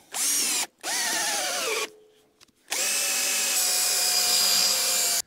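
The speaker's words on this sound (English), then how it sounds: "So just using this other drill bit" A power drill drilling a pilot hole whines loudly in two short bursts, then runs steadily for a longer stretch after a brief pause, close by.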